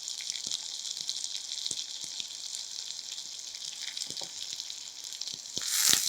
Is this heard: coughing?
no